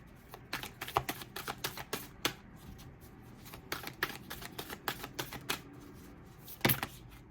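A Moonology oracle card deck being shuffled, close crisp riffling snaps and flicks in irregular bursts, with brief quieter pauses between them.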